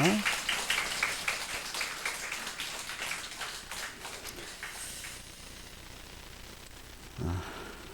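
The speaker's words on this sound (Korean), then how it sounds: "우리 축복하며 박수하겠습니다." A church congregation applauds during an Easter Sunday service: dense, close clapping that starts strong, then thins and fades over about five seconds into quiet, with a short voice near the end.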